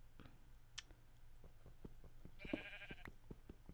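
A single sheep in the Minecraft video game gives one short, faint bleat against quiet background ambience and light clicks.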